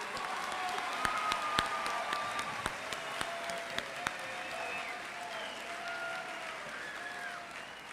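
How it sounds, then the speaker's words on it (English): Audience applause fills a high school senior awards ceremony, a dense steady wash of many hands with a few sharper claps standing out and faint cheering mixed in, sustained for the whole stretch. "Let's give one more huge round of applause to Annie and Vito for leading today's ceremo"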